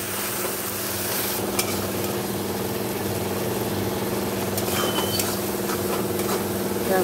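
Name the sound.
sautéing ginger garlic paste with cumin and coriander powder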